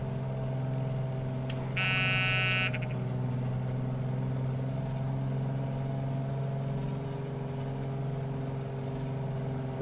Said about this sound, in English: This thing has some old school buzzers for letting you know you need to put your gear down